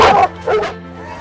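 A hunting dog barks twice in quick, loud yips close by, followed by a fainter bark, during a cat hunt on an African safari.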